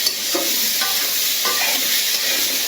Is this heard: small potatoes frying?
yes